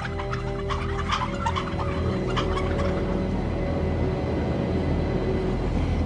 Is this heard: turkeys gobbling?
yes